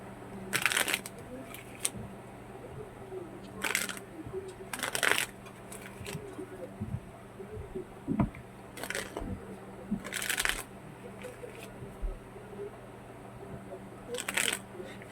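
Tarot cards shuffled by hand in bursts of crisp riffling, about six quick flurries spread across the span, close and clear over a faint steady hum with occasional soft taps.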